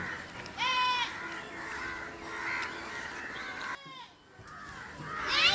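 Goat bleats rise over a rural outdoor scene, a drawn-out wavering call near the start and another toward the end, loud and close, with a brief hush between them and some background noise.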